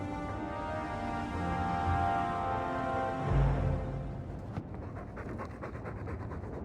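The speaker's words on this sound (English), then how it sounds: "All that noisy dog breath" Dog panting heavily in Dragon Age II, a steady, rhythmic breath that stays loud and close over a low game ambience, with a brief thump partway through.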